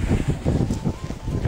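Wind blowing outdoors on a sunny day, gusting in low rumbling buffets against the microphone, loud and close, with no voices.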